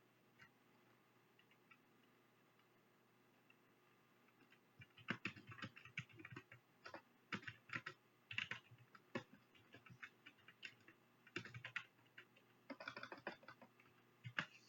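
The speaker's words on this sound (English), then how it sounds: "So you can see up here it'll change as I type it in." Rapid clattering keystrokes on a computer keyboard come in uneven bursts after a quiet start, fairly close and clear, with no voices.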